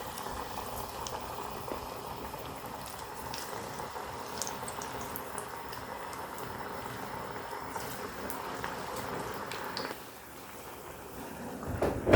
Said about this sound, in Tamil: இவ்வாறு பொரிந்து வருது